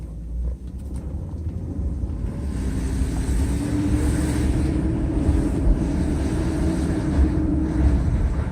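A Mercedes S420 pulls away and drives down a street, its smooth engine hum and road noise rising gradually and then holding a steady, moderately loud cabin drone with no speech.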